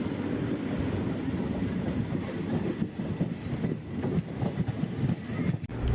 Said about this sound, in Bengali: শিয়ালদা থেকে 6:40 কাঞ্চনজঙ্ঘা এক্সপ্রেস ধরে।